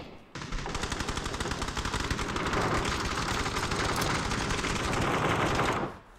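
Sustained automatic gunfire from a newly added rifle in the PUBG video game, a rapid unbroken burst of close, loud shots running for roughly five and a half seconds with no talking.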